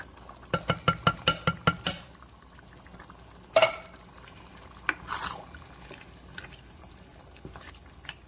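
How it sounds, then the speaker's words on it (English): Canned kidney beans and black beans go into a pot of chilli: a quick run of sharp clinks and taps, then a louder clatter and wet plops and stirring sounds. "now we'll go ahead and add in kidney beans, can of black beans"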